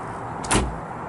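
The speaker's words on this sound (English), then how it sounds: "Easy to close the door down." A storage compartment door on a Honda GoldWing trike shuts with a single short thump and latch click in the middle of an otherwise quiet moment.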